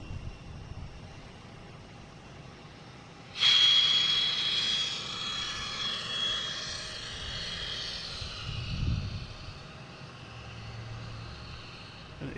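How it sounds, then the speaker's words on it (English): Airbus A321 jet engines spool up at Boston Logan International Airport, a broad rising whine with a thin high tone that jumps in suddenly and holds steady, fairly distant, over faint low airport rumble. "An A321 firing up in the alley here."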